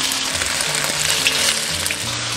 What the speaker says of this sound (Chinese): 下入豆腐，中小火慢煎